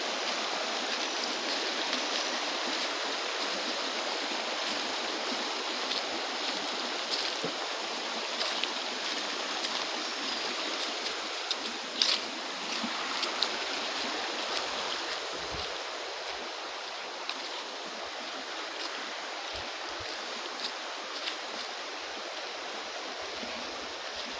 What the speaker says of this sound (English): here is the river again, quite visible from over here